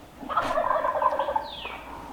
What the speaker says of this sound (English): We just had some new ones gobble right here.